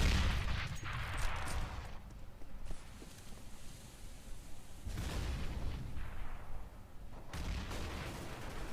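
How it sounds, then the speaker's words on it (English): Grenade blasts and gunfire in Counter-Strike: Global Offensive on the Mirage map, heavy booms and rumbling bursts in a dense, continuous mix, with no clear voices. "A lot of nade usage, a lot of utility being used in the mid area."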